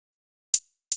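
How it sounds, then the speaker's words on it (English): A reversed open hi-hat sample in a trap-style beat swells twice into abrupt cutoffs, bright hissy whooshes building tension, alone and fairly soft. "that reversed open hi-hat sample creates some tension before the clap hits"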